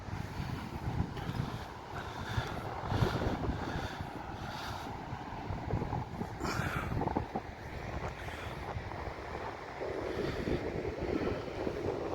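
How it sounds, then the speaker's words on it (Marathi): Steady roar of sea waves washing in at Revdanda beach, mixed with gusty wind buffeting the microphone, continuous and fairly loud throughout with no voices. "खरंच समुद्र आहे."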